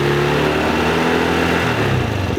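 Honda SH150i scooter with its coolant being changed and radiator cap off, engine running at a steady idle close by, a low continuous hum with a slight dip toward the end and no talk.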